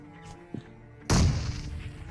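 In the mobile battle game BGMI (PUBG Mobile), a sharp grenade blast bursts partway through after a quiet stretch with a faint click, then rolls off into a decaying rumble.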